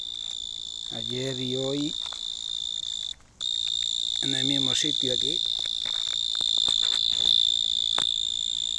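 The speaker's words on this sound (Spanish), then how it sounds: "el sonido de un grillo" Cricket chirping at night in Atios in mid-March, a continuous shrill, close trill running nearly the whole time with a brief break, while someone talks over it in two stretches.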